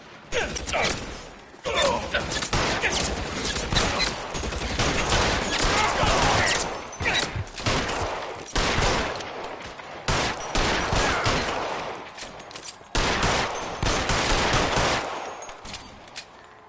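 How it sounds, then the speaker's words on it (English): Suppressing gunfire in LA Noire, repeated volleys of shots and mechanical clatter in loud close bursts separated by brief pauses, with voices talking over the shooting. "Suppressing fire."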